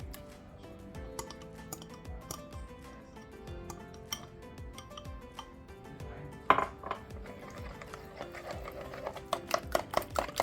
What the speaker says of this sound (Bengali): হুইস্কার দিয়ে আমি সামান্য ডিমটা বিট করে নিচ্ছি